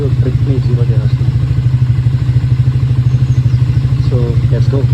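A warmed-up motorcycle engine idles steadily up close, a fast even low thrum with a light mechanical clatter, running alone throughout.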